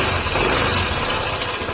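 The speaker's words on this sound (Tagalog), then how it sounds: "Kapag gano'n ang tunog ng motor ninyo, camshaft ang problema niyan mga sir." A loud, harsh Honda ADV160 scooter engine with a faulty camshaft clatters and rattles steadily, close up, with a rough mechanical knocking throughout.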